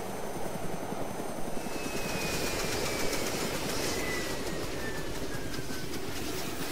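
A helicopter engine in the ArmA 2 video game winds down inside a hangar, giving a fairly quiet, steady rotor chop and turbine hum while a thin whine slowly falls in pitch, with no talking.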